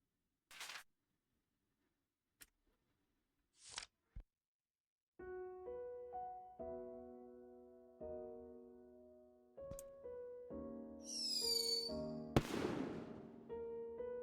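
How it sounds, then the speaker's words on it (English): Fireworks set off for a funeral in the video game Firework: a few sharp isolated pops, then over a musical score a rising whistle and a loud crackling burst near the end. "there will be fireworks at the funeral"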